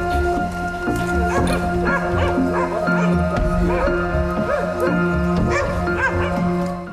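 Enraged hunting dogs attack a brown bear chained up during cruel dog training in Ukraine, with dense, overlapping barking, yipping and whimpering that goes on loudly and continuously throughout.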